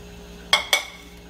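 A metal lid set onto a pot of boiling water, giving two quick clinks about a quarter-second apart, close and fairly crisp, over a faint background hiss.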